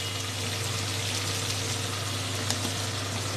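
Cumin seeds tempering in melted butter in a pan for pav bhaji, a steady close sizzle and hiss holding evenly throughout with a faint crackle near the end.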